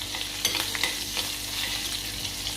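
Green chillies, curry leaves and chopped coriander sauté in a pan for a cauliflower and potato sabji, giving a bright steady sizzle broken by quick stirring scrapes of a spatula.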